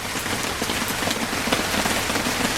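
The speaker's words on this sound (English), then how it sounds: "the rain has calmed down a little bit, which is perfect" Steady rain pattering on a surface outdoors, an even, dense hiss of drops with no voices, close and moderately loud throughout.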